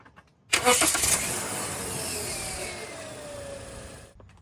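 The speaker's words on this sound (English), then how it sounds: "And then let's turn on the car." A car engine cranks and catches after a jump start from a NOVSIGHT G5 6000A jump starter, a sharp burst of cranking followed by a steady, moderately loud idle.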